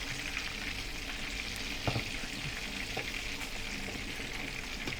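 Prawn and spinach samosas frying in hot oil until crispy, giving a steady close sizzle and bubbling with a few faint clicks of turning, no voices.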